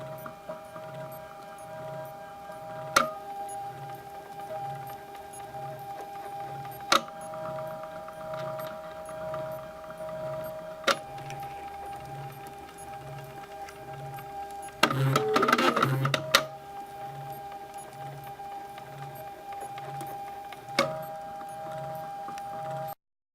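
A Foodini 3D food printer runs steadily, a faint pulsing mechanical hum with regular soft ticks every few seconds and a brief louder clatter of motor movement partway through, heard close and alone with no talk.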